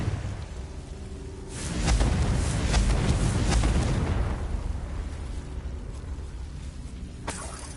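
A Confringo fire spell explodes in Hogwarts Legacy, a booming blast that swells around the two-second mark and rumbles for a couple of seconds before fading into a crackling tail, with a sharp pop near the end.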